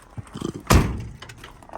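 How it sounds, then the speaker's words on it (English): A single solid thunk of a 1980 Oldsmobile Cutlass Supreme's door shutting, close and loud, followed by a brief fading rumble. "Door closed solid."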